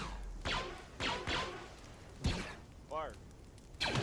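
A funeral volley for a 442nd Siege Battalion ceremony, sharp rifle shots fired in spaced groups about every half second to a second, with spoken commands between the shots.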